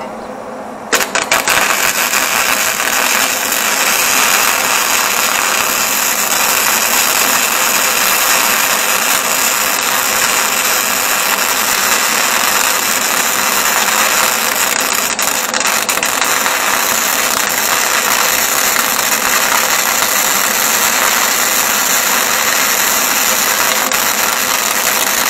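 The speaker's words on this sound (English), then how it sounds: "At the same heat setting, I'm going to turn the wire down." Flux core arc welding run with the wire feed speed turned down at the same heat setting, a loud continuous crackling hiss that starts abruptly and holds steady.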